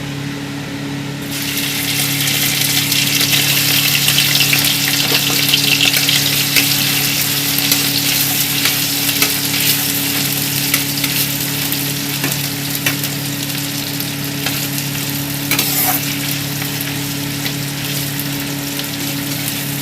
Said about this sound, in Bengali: তেলটা গরম হয়ে গেছে। এখানে আমি আদা রসুন কুচিটা দিয়ে দেবো।